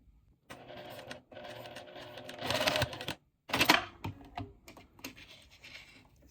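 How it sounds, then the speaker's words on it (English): A sewing machine stitches along zipper tape toward the zipper coil in short mechanical bursts, close and fairly quiet, with a pause between runs and a brief louder whir near the middle. "I'm just going to sew towards the zipper coil at the top"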